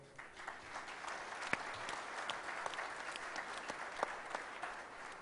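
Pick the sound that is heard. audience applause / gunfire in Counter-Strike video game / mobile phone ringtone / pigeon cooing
audience applause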